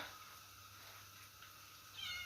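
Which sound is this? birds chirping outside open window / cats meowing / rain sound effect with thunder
cats meowing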